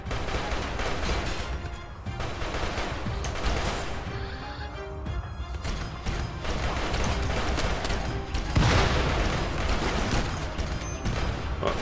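Gunfire in RimWorld crackles in scattered bursts within a busy, continuous mix that also carries horse whinnies and hoofbeats, all at moderate loudness with no talking.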